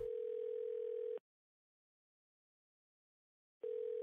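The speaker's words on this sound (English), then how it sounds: "Now we just got to fucking listen to the phone endlessly calling." Phone in the horror game Dead Plate giving a steady electronic ringing tone, one long burst, a pause of about two seconds, then the tone starting again, clear and alone.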